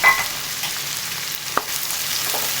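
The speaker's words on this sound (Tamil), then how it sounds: "நல்லா வதங்கணும், வெங்காயம் நல்லா வதங்கணும்." A steady, soft sizzle of onions frying in a pan, with one brief clink partway through; no voices.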